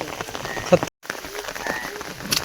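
Heavy night rain falls in a steady, close wash of hiss, broken by a brief dropout, while someone talks over it.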